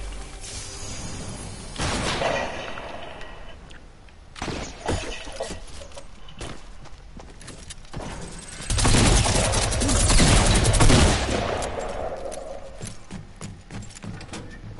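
A minigun fires in the Fortnite video game. Dense, rapid bursts of gunfire come and go across the stretch, swelling into a long loud volley near the end, with clattering game effects and no talk.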